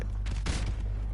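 A single booming sniper rifle shot in a Black Ops-style shooter, one sharp report with a short low rumble tail.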